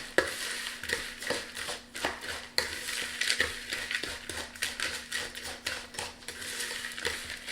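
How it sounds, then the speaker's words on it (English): Melted butter mixed in a bowl for a no-bake lemon lasagna dessert, with repeated scraping and clinking of a utensil against the bowl in an uneven, busy rhythm, close and fairly quiet, with no talking. "So here's the half of a cup of butter. I'm going to mix this around."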